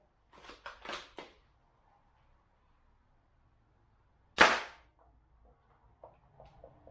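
A gel blaster with a metal piston kit fires once through a chronograph, a single loud, sharp crack standing alone after a few faint earlier taps and followed by quiet clicks.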